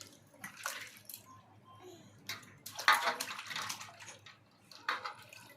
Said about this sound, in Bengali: মুখে মাথায় জল দে